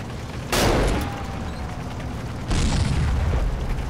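Panzer IV tank fire in the wargame Combat Mission Red Thunder, two heavy booming blasts about two seconds apart, each followed by a rumbling roll-off over a constant low battlefield drone.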